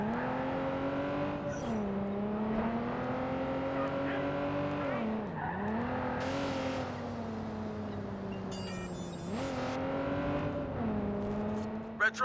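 A car driven in Watch Dogs 2 holds a steady engine drone that rises and dips as it shifts gears, with brief tire squeals and a clatter of impacts near the end, loud and close.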